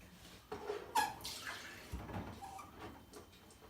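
Filtered water pours into a cup cut from green bamboo, a soft, close splash and trickle that swells near the start and then settles into quieter dribbling.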